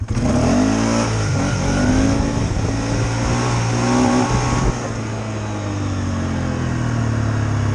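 A Polaris Sportsman 570 ATV engine revs hard and sustained during a wheelie, then its note drops and settles as the throttle eases, loud and close throughout.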